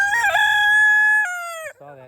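Guinea fowl call on a farm, a loud, sustained harsh tonal cry that breaks off abruptly and is followed by a shorter, lower squawk, close by and with no talk.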